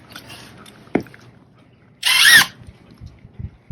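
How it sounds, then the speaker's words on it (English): Pin nailer fixing a waterfall stair tread, with a sharp tap and then a short, loud hissing pneumatic burst close by, followed by light handling knocks. "So I've got that piece pinned now. I'll go back and pin the other side."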